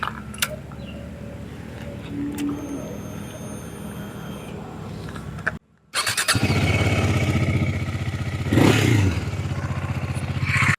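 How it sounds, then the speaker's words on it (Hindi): A six-year-old KTM Duke with 35,000 km on it idles in a steady low rumble, briefly drops to near silence, then comes back in with a louder, fuller exhaust note and a short rev swell partway through. "अभी मैं आपको सुनाता हूँ गाड़ी का एग्जॉस्ट नोट कितना बढ़िया है"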